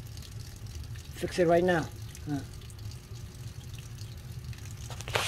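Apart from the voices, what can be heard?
water constantly flowing from a leaking hot water tank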